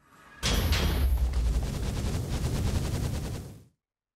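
Rapid gunfire hammers at the Chaos Guardian dragon in a Minecraft FTB Infinity Evolved Skyblock modpack, a loud burst of repeated booming shots lasting about three seconds before cutting off abruptly.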